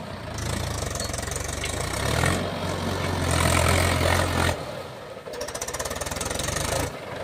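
A Mahindra Yuvo 585 4x4 tractor pulling a trolley up a steep road roars and labors heavily, rising and dropping in strain, with rattling knocks and a brief lull before revving hard again.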